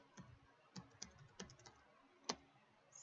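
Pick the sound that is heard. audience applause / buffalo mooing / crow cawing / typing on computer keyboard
typing on computer keyboard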